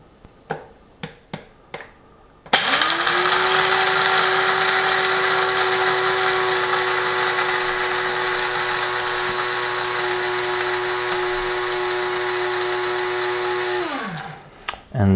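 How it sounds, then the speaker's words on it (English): Several sharp taps lead into an electric coffee grinder whirring through coffee beans. It runs loudly and steadily for about twelve seconds, then winds down to a stop. "I usually grind the coffee for about maybe 10 or 12 seconds."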